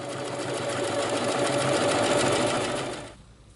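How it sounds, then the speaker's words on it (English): A sewing machine stitches steadily around the collar of a pet coat, a loud, even mechanical whir running alone for about three seconds before cutting off. "we're going to sew just around the collar portion"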